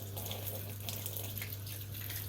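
Water from an open-ended hose sheeting off a waxed car panel, a soft steady rush and trickle with a low constant hum underneath, fairly faint and continuous.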